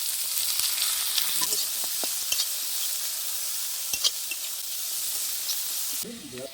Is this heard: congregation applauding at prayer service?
no